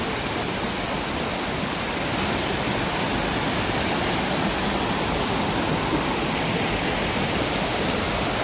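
Tat Pha Vang waterfall near Muang Samtai pours in an unbroken, dense hiss of falling water, loud and even from start to finish with no voices.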